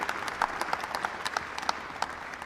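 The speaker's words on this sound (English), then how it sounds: "I would just like you to keep the applause going when I mention your names" Audience applause at a university white coat ceremony, steady mid-distance clapping from a crowd with distinct individual claps popping through, continuing throughout without talk.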